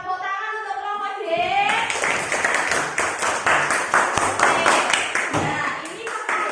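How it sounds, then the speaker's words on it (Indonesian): Students clap together for group D in a classroom, a dense burst of hand claps after a brief sung or spoken lead-in, steady and close for several seconds. "Tepuk tangan untuk kelompok D"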